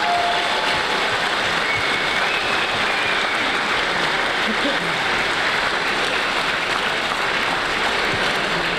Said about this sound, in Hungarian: nagy taps nekik